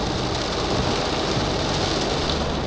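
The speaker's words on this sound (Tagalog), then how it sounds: "Grabe, lakas ng ulan, par." Heavy rain falls in a dense, even hiss that sounds close and loud, with no pauses or voices.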